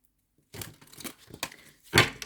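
Close crisp riffling and papery flicks of tarot cards being shuffled in a few quick bursts, ending with a louder snap.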